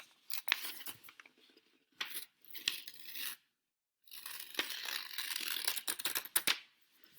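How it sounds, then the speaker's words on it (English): Sheet of paper being torn in half by hand, crisp bursts of ripping and crinkling close by with short pauses between pulls, no talking. "So I fold it back and forth a couple of times, get it loosened up, and then I rip it."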